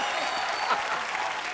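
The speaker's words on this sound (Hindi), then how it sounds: "एक बार जोरदार तालियां होनी चाहिए।" A short burst of loud, dense studio audience clapping on The Kapil Sharma Show comedy show, steady throughout with a murmur of crowd beneath.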